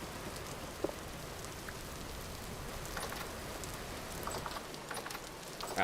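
Rain in the video game Minecraft falls as a steady, soft hiss of patter with scattered droplet ticks, continuous and even throughout the stretch with no talking.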